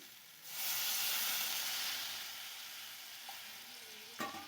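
Water poured into a hot pan of fried pointed gourd sets off a sudden loud hissing burst of steam that swells quickly and then slowly fades to a softer sizzle, with a sharp clatter near the end.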